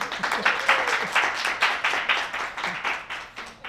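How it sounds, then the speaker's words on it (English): An audience at an author reading event claps steadily for the featured reader, a modest group applauding at moderate volume with distinct individual claps. "Big round of applause for Mary."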